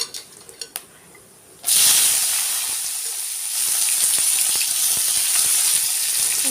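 Onions, green chillies and curry leaves hit hot oil in a pan for tomato soup, bursting into a loud, steady sizzle after a few quiet taps, the hiss holding strong and continuous to the end.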